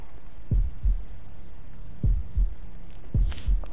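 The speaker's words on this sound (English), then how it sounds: "Heartbeat." A heartbeat thuds in Shadow of the Tomb Raider by Square Enix, three deep double-beat lub-dub pulses spaced about a second and a half apart, loud and alone over a low hum.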